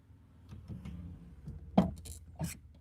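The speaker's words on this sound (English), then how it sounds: "This is the sound of my very old shifter knob moving around in my clutch linkages that probably need replacement." An old car's worn shifter knob is moved around in clutch linkages that need replacing, producing a series of soft rattles, clunks and a couple of sharper metallic clicks, close and quiet.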